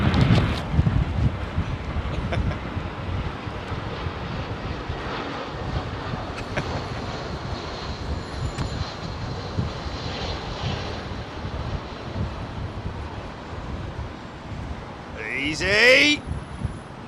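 A Singapore Airlines Boeing 747 freighter on approach and landing, heard as a broad, steady jet roar throughout, heavily buffeted by wind noise on the microphone, with a faint rustle near the end.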